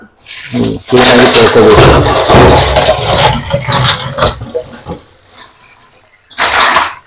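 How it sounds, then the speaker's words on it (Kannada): Crab for a recipe is washed under a running tap, with loud splashing water and clattering in a sink, then a pause of quieter handling before a final burst of gushing water. "ಇವಾಗ ಇದೆಲ್ಲ ಕ್ಲೀನ್ ಆಗಿ ತೊಳಿಬೇಕು."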